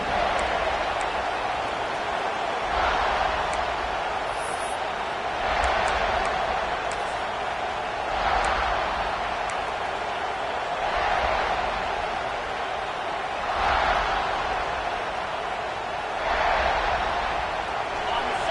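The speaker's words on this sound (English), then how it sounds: "this crowd is fired up. Listen to this noise here." Fired-up crowd in a packed football stadium at Clemson versus South Carolina, a steady roar of cheering with repeated swelling surges every few seconds, loud and continuous with no talk over it.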